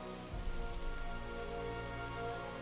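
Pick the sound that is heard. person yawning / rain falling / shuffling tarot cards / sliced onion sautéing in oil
rain falling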